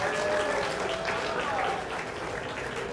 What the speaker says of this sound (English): Can I get one last round of applause for them?